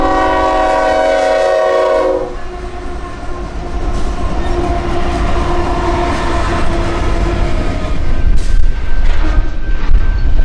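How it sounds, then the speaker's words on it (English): A Union Pacific intermodal freight train with four engines up front and double-stacked containers passes close by; a loud horn blast opens, then a steady heavy rumble and rolling clatter of cars continues throughout. "Train 7814 East looks like a typical UP intermodal with 4 engines up front"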